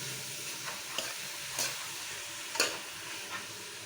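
Beef frying in a pan and being stirred a little, a soft continuous sizzle with a few quiet scrapes of the spoon, fairly faint and without any voices.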